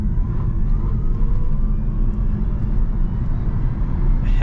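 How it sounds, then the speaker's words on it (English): 2023 Hyundai Kona Electric accelerating on a wet highway, heard from inside as a steady low road and tire rumble with wind noise and no engine note. "We're gonna go ahead and take this Kona on the highway"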